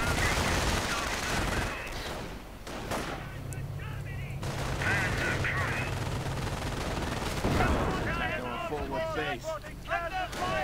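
An MG-42 machine gun rattles in bursts while mortar rounds thud in a video game battle, with gunfire layered under wind-like noise and voices talking over the action.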